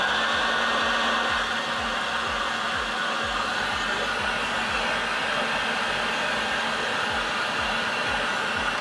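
Heat gun blowing to shrink heat-shrink sleeving on speaker cable, a loud, steady, close fan-and-air roar that holds unbroken throughout.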